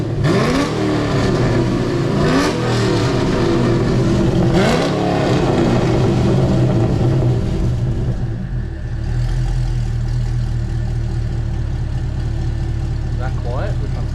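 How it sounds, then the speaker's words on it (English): A Holden SS with a freshly fitted twin 3 inch exhaust and lowered stance rumbles at idle, blipping into a couple of throaty revs early on before settling back to a steady low burble, with people talking over it nearby. "Now give it a rev."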